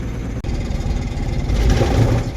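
An empty goods vehicle driving slowly on a highway near Srirangapatna gives a steady, close engine drone with road rumble, which grows slightly louder toward the end with no talking.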